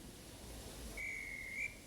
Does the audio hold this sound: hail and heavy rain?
no